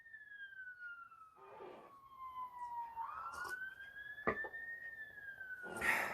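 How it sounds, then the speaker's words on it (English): A faint, distant siren wailing slowly up and down in pitch, with a few soft knocks and rustles nearby. "There's a siren again"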